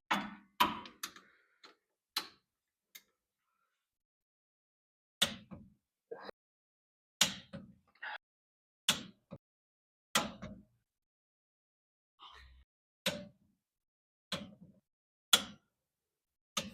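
Torque wrench clicking as lug nuts are tightened in a star pattern on a 2000 Chevy Silverado 1500, sharp isolated clicks spaced a second or two apart with long silent gaps, close and fairly quiet.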